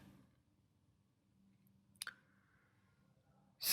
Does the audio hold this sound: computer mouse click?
yes